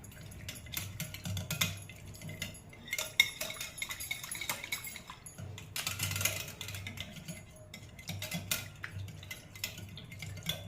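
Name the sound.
whisking curd (yogurt) in a bowl for cucumber raita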